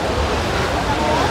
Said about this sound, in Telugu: చాలా అద్భుతమైనటువంటి జలపాతాల దగ్గరికి వచ్చేసామండి.